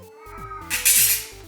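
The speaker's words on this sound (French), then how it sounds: "on t'entend tous miauler à la caméra" A pet cat meows repeatedly, loud and close, with drawn-out rising and falling calls in quick succession and no talk over them.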